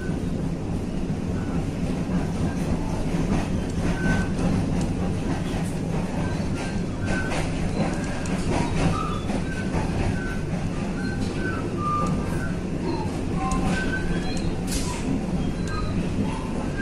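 A Supervia commuter train passing near Japeri station, heard from aboard another train as a sustained, steady rumble of wheels and rail noise with faint squeals and clicks and occasional soft voices underneath.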